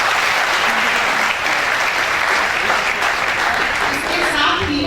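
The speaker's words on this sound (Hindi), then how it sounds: "जोरदार तालियां बजा सकते हैं।" A seated audience at a youth service gathering breaks into loud, continuous applause that keeps an even level for the full five seconds, with no talk over it.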